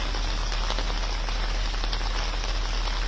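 Heavy, continuous rain pours steadily on surfaces during a downpour that has swollen the Chenab river, a dense, even hiss with no breaks that stays close and loud throughout.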